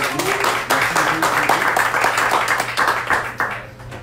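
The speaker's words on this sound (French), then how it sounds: "un petit main d'applaudissement" Applause from an audience at a Stonewall 50th anniversary LGBTQ+ community talk, a dense, steady clapping that carries through the clip and fades near the end, with a few voices underneath.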